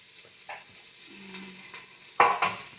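Chopped medium onion sizzling in hot oil with garlic inside a quick cooker, a steady close hiss with brief stirring scrapes and a sharper clatter near the end.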